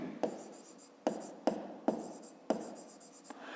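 A pen scratches on paper in short, quick strokes, about six distinct bursts in a quiet room, close and soft.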